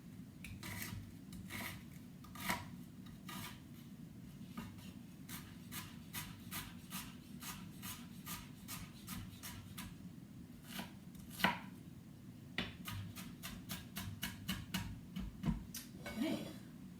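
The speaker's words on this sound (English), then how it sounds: "Now I'm just going to chop this up into bite-sized pieces." A knife chops food into bite-sized pieces on a board while making a Russian salad, quick crisp cuts in uneven bursts, close but fairly quiet over a low background hum.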